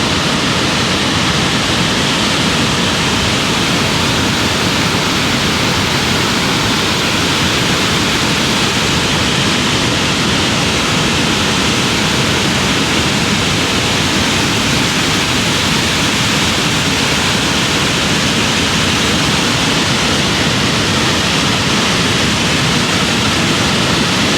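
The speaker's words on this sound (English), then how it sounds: "Look at all that water coming from the glacier." Nugget Falls in Juneau, Alaska pours glacier meltwater in a loud, steady, broadband roar that stays constant and close throughout with no voices.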